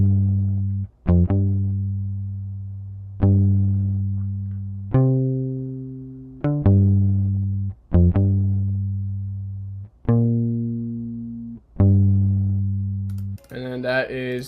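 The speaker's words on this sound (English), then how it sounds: "And then that is the Rickenbacker bass in contact with the Neck Pure DI preset." Rickenbacker bass guitar through a neck-pickup clean DI preset plays a sparse line of plucked notes, each decaying before the next, dry and close, with a brief extra sound at the very end.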